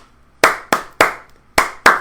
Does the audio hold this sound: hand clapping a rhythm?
yes